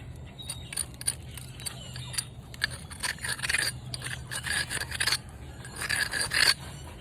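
A novaculite flintknapped blade edge is ground with a stone, giving a run of dry, gritty scrapes in short irregular strokes, close and fairly quiet with brief pauses between.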